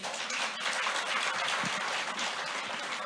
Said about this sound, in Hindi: इसके लिए तालियां बजनी चाहिए।